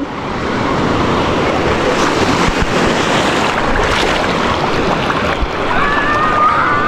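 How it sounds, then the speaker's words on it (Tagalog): Strong ocean waves surging and crashing against the shore, a loud continuous roar of surf with wind buffeting the microphone and a faint voice calling out near the end. "Malakas na alon."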